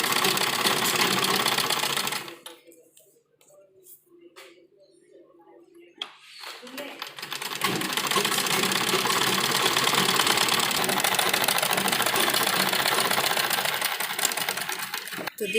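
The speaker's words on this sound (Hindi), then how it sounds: "जो हमारा मशीन का एक पैर होता है, इसके अनुसार हम इसमें सिलाई लगाएंगे।" Sewing machine stitching a pleated frock, a fast steady mechanical whir that runs briefly, pauses with faint handling clicks, then resumes loud and continuous.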